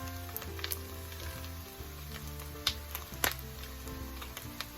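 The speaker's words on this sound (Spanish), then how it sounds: "ya se está dorando la carne" Beef browning in a pan for Cuban ropa vieja, a soft steady sizzle with occasional small pops and crackles, quiet and close, with a low background hum underneath and no talking.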